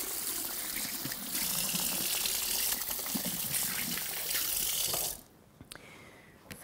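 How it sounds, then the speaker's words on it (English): Hands are washed under a running kitchen tap during meatloaf prep, a strong steady gush of water for about five seconds that then cuts off, leaving quiet with a few faint clicks. "Okay, wash your hands again."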